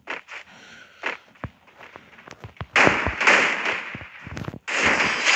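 Gunfire in the Free Fire video game, heard as sharp isolated cracks followed by denser bursts of rapid shots, loud and close, with no voices.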